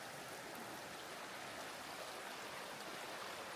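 A creek flows steadily beside a campsite on a rainy weekend, giving an even, broadband rush of water that holds constant and fairly faint throughout, with no voices.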